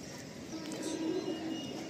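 Soft cooing of Kalasabuj pigeons in a loft, a low, faint, continuous murmur with no voices over it.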